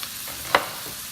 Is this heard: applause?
no